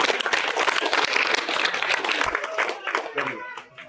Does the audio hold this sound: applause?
yes